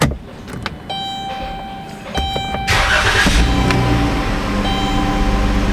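A 2016 Dodge Caravan with a P0302 misfire code is restarted with the key: clicks and chime tones, a brief crank, then the engine catches and settles into a steady, loud idle.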